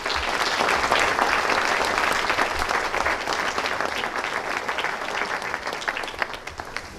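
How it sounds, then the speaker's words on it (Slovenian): Audience at the closing of the European Film Festival in Brežice giving sustained, dense applause, steady and fairly loud for several seconds with no voices over it. "Prosim, aplavz za njih."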